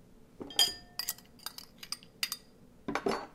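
Cornstarch and garlic being stirred in a glass pie plate, with a series of light clinks and scrapes of a utensil against the glass in irregular bursts, close and fairly quiet.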